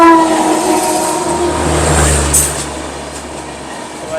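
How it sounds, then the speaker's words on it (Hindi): Mau Anand Vihar Superfast train pulling into a station, a loud close horn blast sounding over the rumbling, clattering approach of the wagons, with faint voices in the background. "ये अभी एंटर कर रही है मऊ आनंद विहार सुपरफास्ट।"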